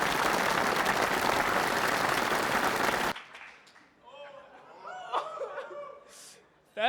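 An audience at an award show bursts into loud, dense applause for about three seconds, which cuts off abruptly into scattered laughter, chuckles and a speaking voice before a brief rise of noise returns at the end.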